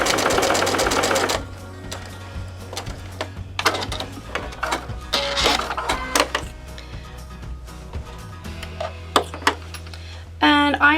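A sewing machine stitches fabric with a jumper scrap, running in short bursts of rapid mechanical chatter separated by pauses, with quieter handling noises between the bursts.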